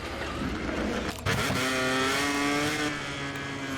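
MotoGP 24 racing motorcycle pulling out of the pits in the video game: a steady engine drone rises in pitch as the bike accelerates away, loud and close, with no voices.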